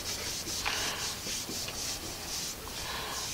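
Smoothing a turned maple bowl, a steady close rubbing and sanding hiss with rhythmic strokes repeating throughout, no talk.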